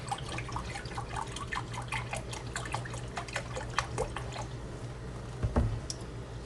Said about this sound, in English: So I'm gonna pour this up to the 1 cup mark